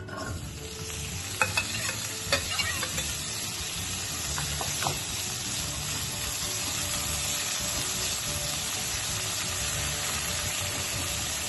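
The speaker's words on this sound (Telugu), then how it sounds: "ఈ నూనె మరిగాక మనం కాకరకాయ ముక్కలు వేసుకుందాం." Bitter gourd pieces fry steadily in hot oil, a continuous close sizzle with a few sharp spatters and utensil clicks in the first seconds, then an even hiss with no talking.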